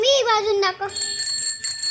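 A bicycle bell rings with a bright metallic trill, close and clear, right after a voice speaks briefly.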